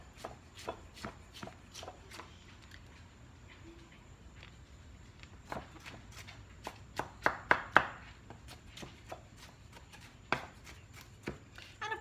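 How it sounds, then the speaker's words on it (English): Strawberry salsa ingredients are finely chopped with a knife on a board, a long run of crisp, close knocks in uneven bursts, sometimes fast and clustered, with no talk. "So give it a real nice"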